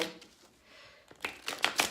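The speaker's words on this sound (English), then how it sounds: "I'm gonna shuffle just a little bit more." A deck of tarot-style reading cards is shuffled by hand, starting quietly, then a quick run of crisp riffling bursts near the end, close and clear with no talking.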